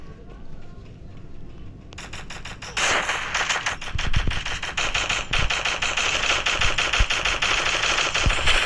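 Rapid automatic gunfire from a video game, in dense bursts that begin after a quieter opening and run continuously to the end, close and loud over background game sound.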